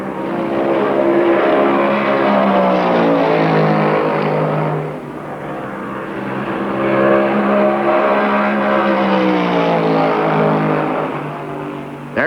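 Richard Petty's Plymouth number 43 stock car engine roars loud and close in a race, its pitch rising and falling as it passes, with a brief dip midway before swelling again.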